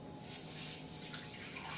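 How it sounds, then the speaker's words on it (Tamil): Tamarind water pours into a dry pan on the stove for watermelon rasam, a soft, steady trickling splash heard close and alone for a couple of seconds. "புளி தண்ணி ஊற்றுறோம்."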